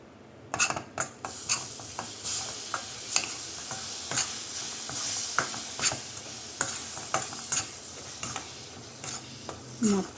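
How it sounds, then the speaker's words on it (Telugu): Mango puree being stirred into a frying coconut mixture in a pan for mango coconut laddu, with steady sizzling under repeated scraping and clinking of a spoon against the pan, close and alone without talk. "ఇప్పుడు మనం చేసుకున్న మ్యాంగో ప్యూరీ మొత్తం కూడా ఇందులో యాడ్ చేసేసుకోవాలి."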